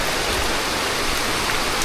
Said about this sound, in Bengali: আজকে বৃষ্টিটা ওই বৃষ্টির তুলনায় অনেকটা মুসলদারের বৃষ্টি মুসলধারের বৃষ্টি